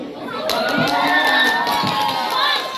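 A junior high school audience at a student council candidate debate in Tana Tidung, Indonesia, shouting and cheering: a loud, sustained crowd of young voices yelling together, close and unbroken.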